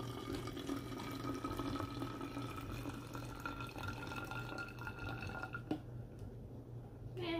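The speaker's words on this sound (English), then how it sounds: "we're going to fill up this bottle with some vinegar" Vinegar being poured into a bottle for a home science experiment, a faint continuous trickle and fill sound over a low steady background hum, quiet and without speech.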